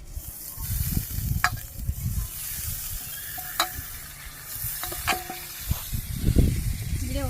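Spices frying with masoor dal for khichuri in a pan, a soft sizzle under repeated scraping stirs of a spatula, with a few metallic clinks; quiet and close, and a voice is heard at times.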